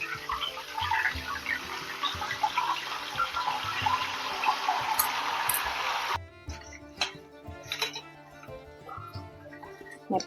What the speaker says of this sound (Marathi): मी काय करते हे पाव चमचा याच्यामध्ये मिठाचं पाणी टाकते